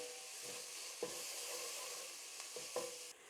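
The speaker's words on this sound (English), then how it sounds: "put the lid on it and let it saute for 5 or 10 minutes" Spinach and tomato soup vegetables sauté in a pot with a soft, steady sizzle and hiss, punctuated by a few quick knocks and scrapes of stirring.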